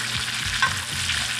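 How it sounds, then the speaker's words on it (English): Steak sizzles in a tilted pan while garlic rosemary butter is spooned over it, a steady close frying hiss with soft spoon scrapes and bubbling crackle throughout. "I'm gonna tilt the pan, and I'm just gonna base this right over the steak"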